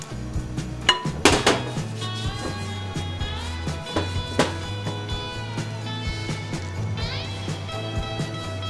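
Metal utensils clatter and scrape steadily against a bowl as a boy stirs pizza sauce in a home kitchen, with sharp clinks and knocks repeating close up over a constant low hum.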